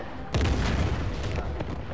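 A single sudden boom from an in-game explosion in Uncharted: The Lost Legacy, fairly loud and set against a low rumbling backdrop, followed by a short decaying tail with no talking over it.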